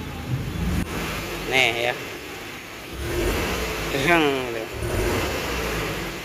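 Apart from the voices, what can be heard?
car engine revving from inside the car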